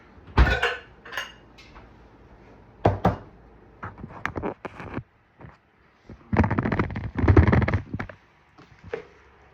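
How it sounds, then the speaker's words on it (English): A Pyrex glass dish is pulled out and handled in a kitchen, with loud clanks, knocks and rattling bursts, then a longer cluster of clattering near the end. "Get out the Pyrex dish."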